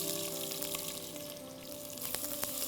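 Onions go into a pan of sautéed whole spices for chicken curry, giving a steady, fairly loud sizzle and crackle with a few sharp pops near the end.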